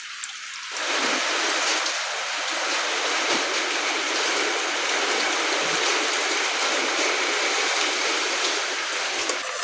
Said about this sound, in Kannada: ಮಳೆ ಇಷ್ಟೊತ್ತಾದರೂ ನಿಲ್ಲಿಲ್ಲ